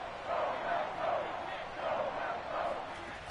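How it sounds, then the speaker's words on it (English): Stadium crowd in Madden NFL 22 swelling and roaring in repeated waves ahead of a big third down in a Vikings–Packers playoff game, moderately loud and continuous. "the crowd getting into it as we come up on a big 3rd down"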